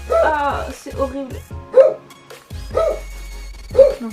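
A dog barks and yips in short repeated bursts, mixed in with someone talking over it indoors.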